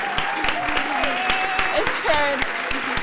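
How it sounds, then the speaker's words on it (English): An audience claps steadily for people being recognized, a dense, close wash of hand claps that holds evenly throughout, with a voice faintly audible over it. "Everybody, let's give them a round of applause"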